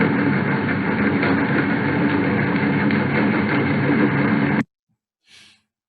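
A whale-watching tour boat engine drones loud and steady with a dense rumbling hum, then cuts off abruptly into near silence followed by a brief faint sound.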